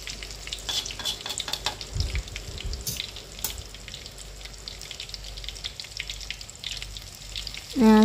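Crispy tofu frying in hot oil as pieces are flipped, a soft steady sizzle with scattered pops and scraping clicks from turning, fairly quiet and close, with a brief louder burst at the end.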